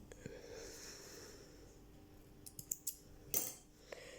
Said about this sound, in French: Donc, j'ai ma paire de ciseaux